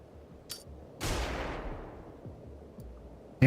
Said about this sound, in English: welcome to flashbangs.